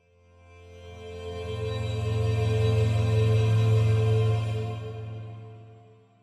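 Only the reverb tail of a metallic instrument, with the highs cut so it sounds dark: a low, sustained wash that swells slowly, holds, then fades away on its own.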